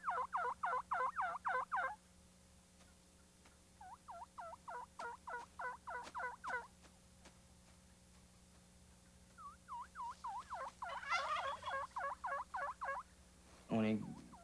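A wild turkey tom, strutting and calling for a hen, gobbles in a run of rapid rattling bursts, several separate series across the clip, with a louder, harsher call near the end.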